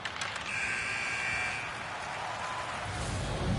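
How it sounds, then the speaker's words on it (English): A period-ending horn blares in an NHL 26 hockey video game, a sustained tone holding for about a second over a steady roar of arena crowd noise that continues to the end. "There's the buzzer bringing the second period to an end"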